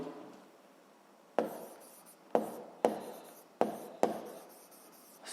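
Chalk or pen writing notes during a school physics lesson, a series of five or six sharp scratchy strokes each fading quickly, close and isolated after a short quiet stretch.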